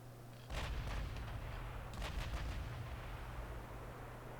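Heavy 13.5-inch naval guns on a battle cruiser fire in the warship game Ultimate Admiral Dreadnoughts, with a loud deep boom at the start and a second volley shortly after, both rolling into a long low rumble over a steady engine hum.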